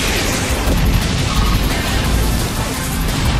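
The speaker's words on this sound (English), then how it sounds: "Annihilated by explosion!" An explosion move in the video game Pokémon Battle Revolution sounds as one loud, sustained boom with a crackling, broadband roar that holds steady for several seconds.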